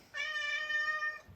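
A single drawn-out meow from a house cat, close and clear, lasting about a second against a quiet background.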